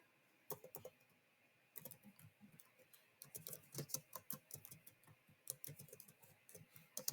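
Soft keyboard typing comes in quick bursts of clicking keystrokes, pausing between words, faint and close with no voices.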